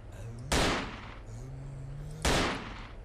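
A powerful gun in S.T.A.L.K.E.R.: Call of Pripyat fires two loud, sharp blasts about two seconds apart, each tailing off quickly over a low steady hum.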